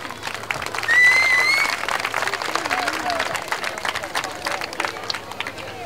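Audience applause at a Sac and Fox Nation traditional night honoring the Senior Man of the Year, a crowd clapping steadily with a high whistle or call near the start and voices murmuring through it.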